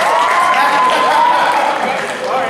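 A high school talent show audience applauds and cheers, a steady wash of clapping and crowd noise with voices mixed in.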